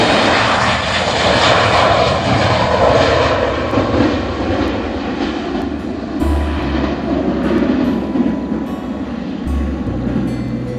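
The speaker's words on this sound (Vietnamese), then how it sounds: "đang nhanh chóng lăn bánh trên đường băng và đang chuẩn bị cất cánh lên" An airliner rolls down the runway at Can Tho International Airport and takes off, its engines a loud, continuous roar heard from close by, with a low rumble underneath that shifts in pitch as it gathers speed.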